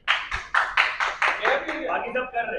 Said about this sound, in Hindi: सर के लिए तालियां बजाइए